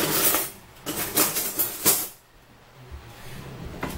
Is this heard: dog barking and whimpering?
no